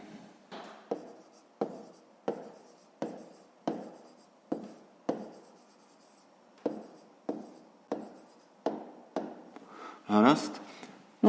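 Pen or chalk writing out a fifth-grade math solution, heard as a steady series of short scratching strokes in regular bursts, ending with a louder rustle, with a teacher speaking alongside.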